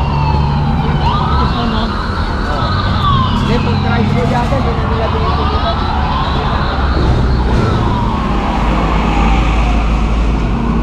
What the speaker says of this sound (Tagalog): Kaya maraming mga ambulansya at bombero.